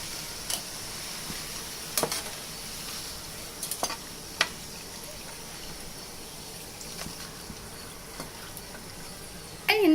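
Potato chips frying in hot oil until crisp, a soft, steady bubbling sizzle up close with occasional sharp clicks and taps of a utensil, fairly quiet throughout and without speech.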